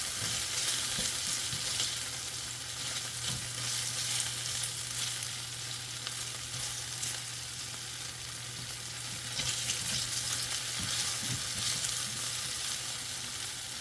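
Butter garlic chicken sizzles steadily in a pan after being flipped, a continuous close, crackling fry with occasional pops and stirring, no voices.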